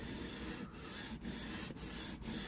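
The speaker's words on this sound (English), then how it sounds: "We're going to find that bevel by pushing oil out" A Victorinox knife blade rubbed along an oiled sharpening stone gives a steady, even rasping scrape, with four short breaks as each stroke ends, close and alone.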